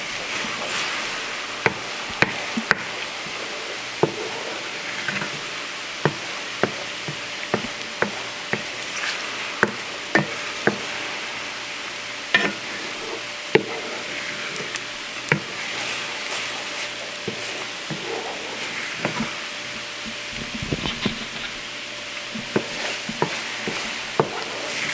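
Eggs scrambled in a hot pan for cauliflower shrimp fried rice, a steady soft sizzle with frequent small scraping and tapping clicks of a utensil against the pan, close and continuous, no talking.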